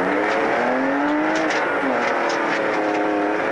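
A rally car at the Fenno rally 2022 launches from the start line, its engine revving loudly and close with rising pitch as it accelerates hard through the gears.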